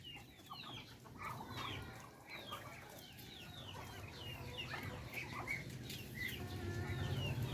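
Many chicks of different colours clustered together on a Filipino farm, with a dense, continuous chorus of chirping and clucking fowl close by, occasional wing flaps, and no talking.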